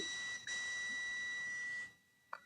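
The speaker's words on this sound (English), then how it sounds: "Now the multimeter is beeping, meaning there is a continuity." A multimeter sounds a steady high-pitched continuity beep while its probes test a contactor, holding for almost two seconds before cutting off, followed by a faint click near the end.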